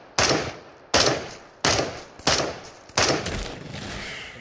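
Gunfire from a semi-automatic gun in the video game Into the Radius, five sharp loud shots at roughly even intervals, each followed by a decaying echo tail.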